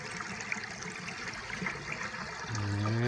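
Water trickles and splashes steadily from a wine barrel waterfall with an old farm ceramic sink, a low, fairly quiet flow that thickens into a fuller, louder rush near the end.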